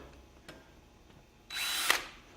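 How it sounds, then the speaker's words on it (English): A power drill whirs at high speed through metal with a small bit in a short burst of under a second, close by, after a couple of faint clicks. "I'm going to use high speed on my drill."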